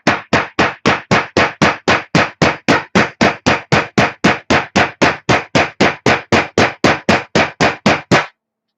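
Sharp, loud taps from an improvised hammer knock drag race mid-motor transmission parts into place, about thirty evenly spaced strikes in a steady rhythm with no talking, close and distinct.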